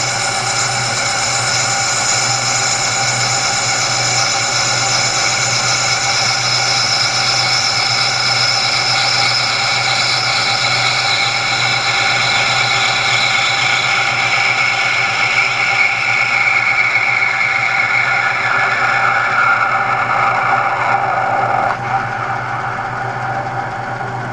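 A metal lathe machines a vise part under spindle feed at one tenth per revolution, giving a loud, steady whirring drone with a cutting tone that slowly falls in pitch as the tool nears the center.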